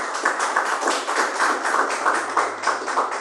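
Church congregation applauding together, a dense, steady wash of many hands clapping for a few seconds with a gently pulsing rhythm, loud and close.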